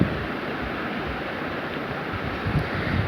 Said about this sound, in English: Now it's time to add the water to it